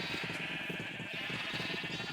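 Sheep bleating in a video game, repeated wavering bleats from several animals over a constant bright background hum, faint and close together.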